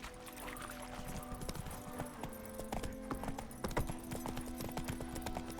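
Horse hooves clip-clopping in The Witcher 3, a steady rhythmic trot of many close hoof strikes over a low game ambience and faint tonal background.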